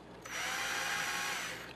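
A power drill fitted with a 1.2mm bit whines steadily as it bores into boards, close and continuous for over a second before spinning down.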